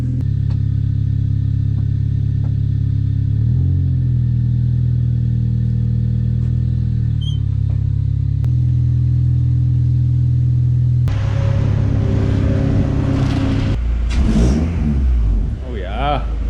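A Honda Civic's engine drones steadily, then revs up harder and rougher while the car tows another car through snow, loud and close throughout.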